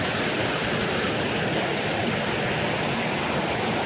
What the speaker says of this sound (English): there's some beautiful waterfalls higher up there, look.